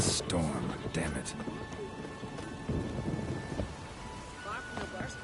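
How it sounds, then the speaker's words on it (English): Thunderstorm and rain in the video game The Witcher 3: steady hissing rainfall with rolling thunder rumbles throughout, a voice speaking over it. "Storm, damn it."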